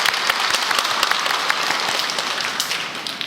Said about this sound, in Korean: 이제 하나님 영광을 돌리며 박수합시다.